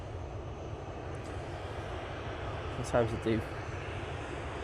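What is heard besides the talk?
Ryanair airliner jet engines at Manchester Airport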